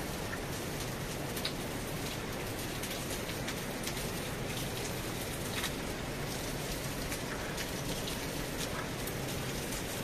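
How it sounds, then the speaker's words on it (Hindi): Steady rain falls at six in the early morning on a mountain trek route to Madhmaheshwar, a dense continuous patter of drops on surfaces with no pauses. "अभी भी बारिश हो रही है"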